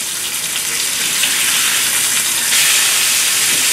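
A swordfish steak is flipped in a hot pan and gives a loud, steady, close sizzle with a broad hiss that swells slightly near the end. No one talks.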